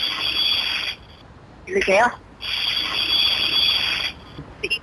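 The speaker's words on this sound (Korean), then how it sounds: "녹음한 믹서 작동 소리를 연속해서 재생하고 있는 거랍니다." A recorded blender motor is played back loudly through a speaker, giving a steady high-pitched whining roar in two long stretches. A brief voice speaks in the gap between them.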